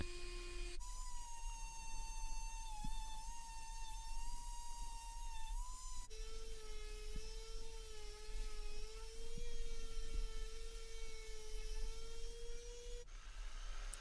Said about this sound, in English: I had the long task of sanding all this rough wood down